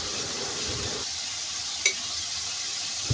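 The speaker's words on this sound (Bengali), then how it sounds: "এখন আমি এর মধ্যে হলুদ, লবণ, শুকনো মরিচের গুঁড়া দিয়ে ভালো করে এই মশলাটাও কষাবো।" An onion-garlic paste with turmeric, salt and dry chili powder fries for a fish curry, making a soft, steady sizzle with one brief sharp clink near the middle, fairly quiet and without speech.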